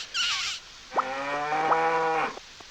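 Cattle mooing in the Harvest Moon 64 farming game, heard as two long, drawn-out synthesized moos with rising harmonic tones, loud and close, following a brief bright chime, with no talking over them.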